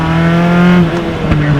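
Single-seater race cars pull away at the green flag at Mid-Ohio, a loud, dense engine drone with steady harmonics that shift and rise as the pack accelerates, close by and without voices.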